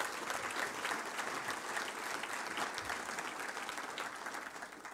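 An audience gives a sustained round of applause at a touchdown club luncheon, dense clapping heard from a moderate distance that tapers slightly toward the end.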